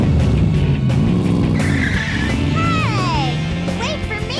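Engine revving and skidding tire squeals as Tails transforms into a car in the video game Sonic Adventure 2, loud and continuous with game voices and music layered over it.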